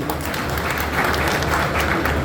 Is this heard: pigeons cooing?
no